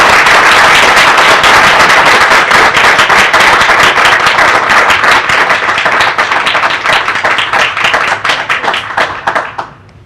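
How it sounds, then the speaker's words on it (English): An audience at a city council session breaks into loud, sustained applause after a 6-1 vote passes a piece of legislation, many hands clapping densely before thinning out and stopping. "y'all are making me tolerate clapping again"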